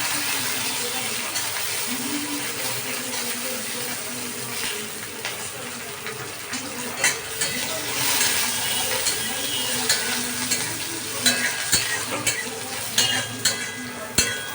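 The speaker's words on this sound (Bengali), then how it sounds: "বাদামগুলো ভালো করে ভাজা করে নিচ্ছি।" Peanuts fry with garlic in a pan, a continuous sizzle broken by scraping stirs and sharper spoon knocks that pick up toward the end, close by with no talk.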